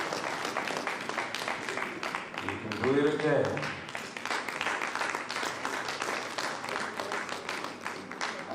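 A crowd claps continuously in steady, dense applause while a voice speaks briefly over it partway through.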